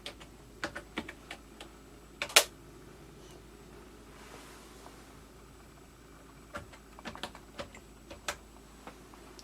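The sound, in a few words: typing code on terminal keypad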